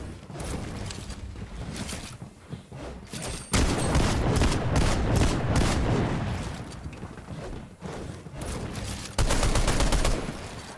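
Shotgun blasts and gunfire in a Fortnite Chapter 5 firefight with the Mythic Frenzy Shotgun, loud repeated bursts that come in clusters, with heavier booms near 3.5 and 9 seconds, over constant game noise.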